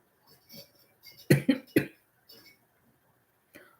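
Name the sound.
cough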